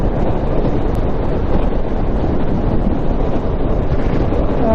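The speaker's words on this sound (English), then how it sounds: "Got a nice even wind blast." Loud, steady wind roar buffets inside a helmet while riding a 2019 Yamaha MT-07 motorcycle on a still day, a constant dense rush with no talking.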